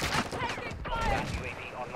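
Rifle fire in the Call of Duty video game, quick bursts of shots at low volume mixed under someone talking.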